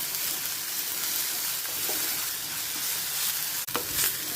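Garlic and curry leaves sizzle steadily in hot oil for a Kerala-style fish curry, a close, continuous hiss with a brief stir and scrape near the end.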